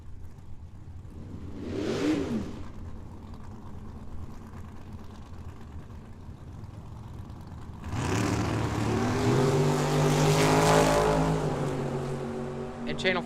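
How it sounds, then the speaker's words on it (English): Nova drag racing car launching down the drag strip at Tucson Dragway, a loud roaring engine surging up over crowd and announcer noise, rising and building before fading slightly. "Kidd dialed 649. driving Billy's Nova"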